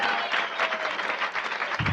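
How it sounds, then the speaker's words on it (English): Audience applause for comedian Lynn Stobener at a televised stand-up comedy show, a dense continuous wash of clapping from a crowd lasting about two seconds with a brief low thump near the end. "Let's have a nice big round of applause."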